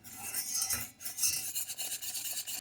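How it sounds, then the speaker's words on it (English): A spoon stirs agar-agar powder into boiled juice in a pot while making elderberry gummies, giving a steady run of soft scraping and swishing strokes, close and continuous with no talking. "I've put the powder in, and we're just going to stir it up until it dissolves"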